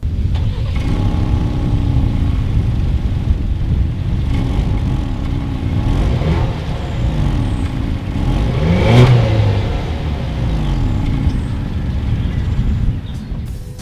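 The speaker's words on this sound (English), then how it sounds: "As always, here is that exhaust clip." A 2020 Ford Explorer XLT with dual exhaust idling with a deep, steady rumble, rising into a brief rev around the middle before settling back, heard close and alone.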